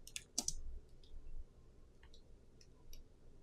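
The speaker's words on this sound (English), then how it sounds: "I was just typing too fast." Fast typing on a computer keyboard, heard as short quiet bursts of clicking keys with pauses between them, faint and close by.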